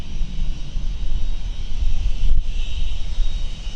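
A Ryanair jet lands on runway 04 at Stansted Airport, heard as a loud, steady roar with deep rumble that carries unbroken throughout.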